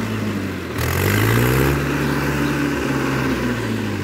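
A Mahindra 575 tractor engine runs in muddy monsoon fields, a steady loud diesel drone with a low throb that swells up after a brief dip near the start, then holds constant; no talking.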